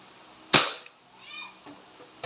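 A single sharp, loud crack from a Crosman SNR 357 CO2 airgun revolver firing steel BBs, followed by a short fading hiss and faint quiet noise.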